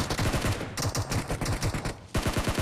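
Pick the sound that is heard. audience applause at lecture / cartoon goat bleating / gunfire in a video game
gunfire in a video game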